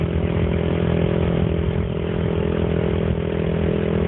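A motorcycle engine drones loud and steady during a village race, a continuous gritty rumble with clattering mechanical texture and slight revving, close by and alone without talk.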